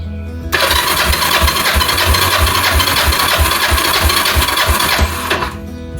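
A Kawasaki Ninja 500R engine cranks over steadily on the starter during a compression test, a loud continuous whirring with a regular pulsing rhythm that cuts in sharply, runs about five seconds, then stops.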